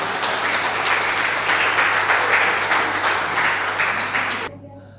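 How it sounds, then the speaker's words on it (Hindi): Sustained applause from an audience at a Hindi poetry gathering, loud and steady for several seconds, then cutting off abruptly near the end. "घनघोर तालियों से उसका स्वागत कीजिए"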